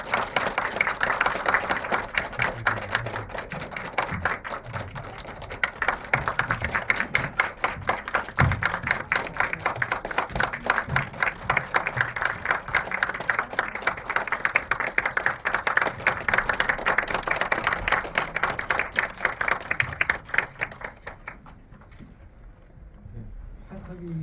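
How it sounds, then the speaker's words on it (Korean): Sustained audience applause at a Korean film screening talk event as the director and actors are welcomed, dense steady clapping from a sizeable crowd lasting about twenty seconds before fading out. "큰 박수 부탁드릴게요"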